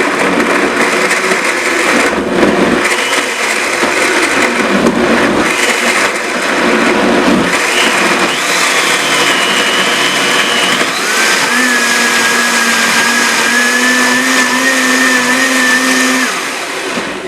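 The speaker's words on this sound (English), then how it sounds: "And you don't need to blend this until it's completely mush, but just so that it's chunked up real good." A blender chops garden tonic made with apple cider vinegar, running loud and steady, its motor pitch shifting and rising to a higher whine partway through, with no talk.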